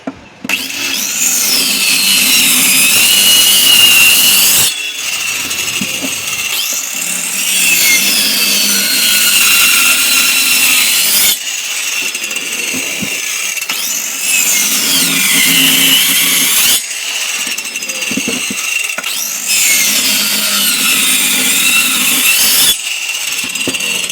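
A homemade cutting machine cutting pieces, heard as a loud, steady whining grind in four long passes with brief pauses between them, close up, with no speech.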